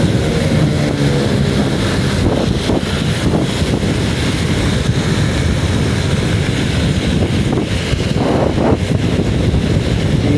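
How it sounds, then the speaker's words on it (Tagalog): Strong typhoon wind buffets the microphone with a constant loud roar and rumble, with passing traffic noise mixed in along a street. "Lakas ng hangin."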